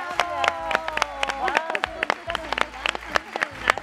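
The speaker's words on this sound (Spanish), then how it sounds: "¡Fuerte aplauso!" A strong burst of applause from a TV variety-show studio audience, with sharp, irregular claps popping over sustained musical tones and voices throughout.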